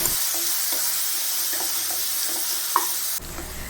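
Banana pieces fry with raisins and cashews in a pan with a steady sizzle, broken by soft stirring scrapes and light taps of the spoon, before the sound cuts off sharply near the end.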